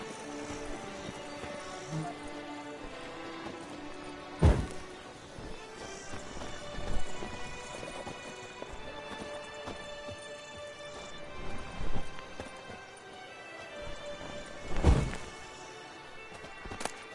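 Hooves of the horse Roach clip-clop at a walking pace in The Witcher 3, a steady close rhythm of soft thuds with a couple of sharper knocks, under a background music bed and no clear talk.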